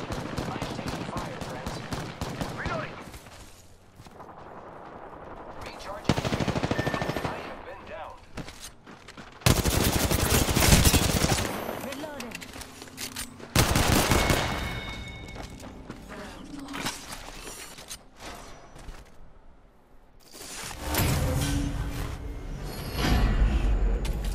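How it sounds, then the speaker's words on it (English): Rapid bursts of automatic gunfire, grenade explosions in Apex Legends, loud and dense, broken by brief lulls with faint movement sounds. "Listen up, I'm getting shot at."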